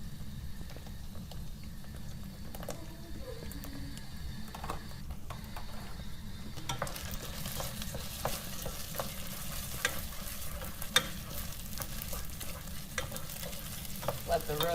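Homemade marinara sauce fries in a pan with a steady, faint sizzle and scattered small pops and crackles throughout, no voices over it.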